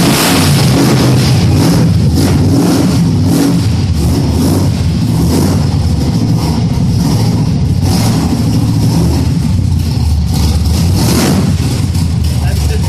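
A 1972 Chevrolet Chevelle engine revs loud and close, a deep rumbling drone with repeated surges throughout, with people talking over it.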